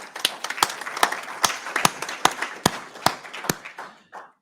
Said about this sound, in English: I'd like to ask everyone to give a round of applause to finalists in both categories.